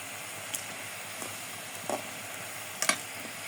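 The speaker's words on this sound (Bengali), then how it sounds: "এটা লাল করে ভেজে নেব। এই যে বাদামি কালার হয়ে আসছে" A potato and cornflour kathi roll frying in oil until brown makes a moderate, steady sizzle, with a few scattered clicks and pops of a utensil against the pan.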